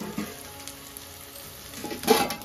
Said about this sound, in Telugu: ఆనియన్స్ మంచిగా ఫ్రై కావాలి